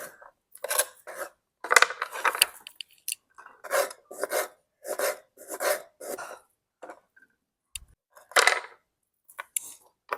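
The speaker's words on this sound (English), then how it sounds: "So I'm just chopping the garlic." Irregular bursts of a knife roughly chopping garlic on a board, close up, with short pauses between strokes and no talking.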